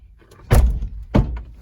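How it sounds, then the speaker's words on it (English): Door of a mid-2000s car in a junkyard swinging shut, two heavy metallic thunks about half a second apart, close and loud with no talk. "Ow, the door's trying to crunch me right now."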